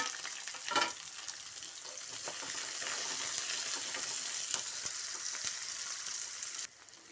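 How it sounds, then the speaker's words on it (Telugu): Onions and cumin seeds frying in hot oil, a soft continuous sizzle with a few stirring scrapes near the start, low in level and steady until it drops off abruptly near the end, no talking. "ఆయిల్ పెట్టి ఆనియన్స్ వేసేస్తున్నాను"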